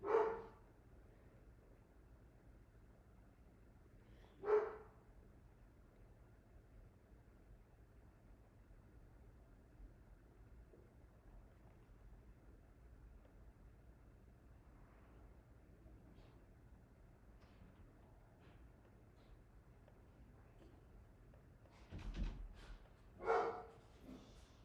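A dog barks a few times, isolated single or double yaps spaced far apart, faint against a steady low hiss in a quiet indoor setting.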